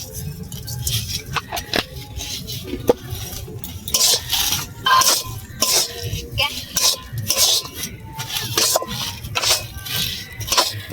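A spoon stirs and scrapes a spiced mango chop mixture with chaat masala, garam masala and a little sugar in a pan, giving repeated close clinks and scrapes in an irregular rhythm with background kitchen noise.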